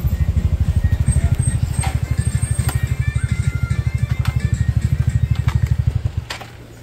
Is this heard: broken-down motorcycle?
yes